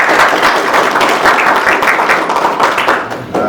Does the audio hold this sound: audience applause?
yes